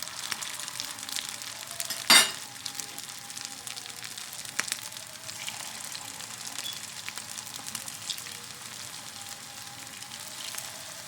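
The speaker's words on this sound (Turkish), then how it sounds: "bütün karnabaharlarımı, köftelerimi kızarttım" Continuous soft sizzling and crackling of cauliflower patties frying in oil, with a brief sharp clink early on. Steady, close and fairly quiet, with no voices.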